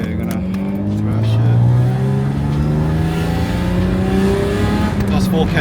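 A Lexus IS200 engine with a modified throttle body revs hard, its pitch climbing and sliding in long sweeps over several seconds, loud and close, with rising and falling engine tones throughout.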